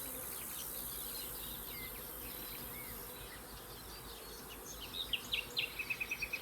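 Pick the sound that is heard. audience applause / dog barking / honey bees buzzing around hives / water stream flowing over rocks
honey bees buzzing around hives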